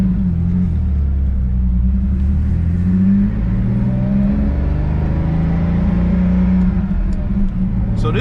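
A 1977 Porsche 911 Turbo Carrera, warmed up and driven on the road, its engine droning loud and steady from inside the cabin, pulling up through the revs with a deep rumble and whirring overtones.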